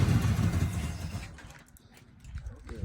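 A 1972 Chevrolet Monte Carlo V8 with a mechanical fuel pump runs at a rough, loud low rumble, then eases into a quieter, uneven idle.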